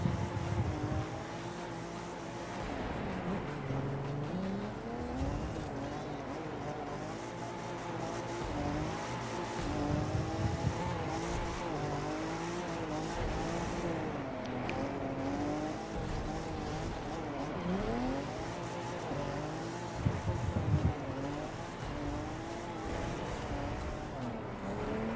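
Car drifting in The Crew 2 with the handbrake pulled: a sustained engine roar that rises and falls with wavering tire squeal across the whole stretch, loud and continuous with no talk.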